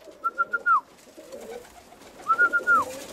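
Young roller pigeons cooing at feeding time: two distinct soft, rolling coo phrases of a few pulses each, moderately close, over low background noise with no talk.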